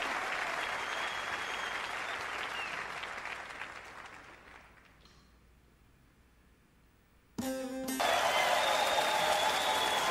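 Eurovision audience applause in a huge arena, a dense roar of clapping that fades down to near quiet, then a sudden loud burst of music and renewed crowd noise.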